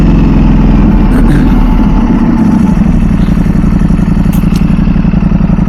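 Ducati V4 SP2 motorcycle with a dry clutch and open clutch cover, its engine and exhaust running steadily and loud up close, a continuous rumbling drone with a rattling clatter underneath and no pauses.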